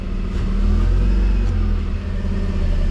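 Toyota Land Cruiser 80 series engine running loud and close as it is shifted into drive, a steady low rumble with slight swells, no talk over it.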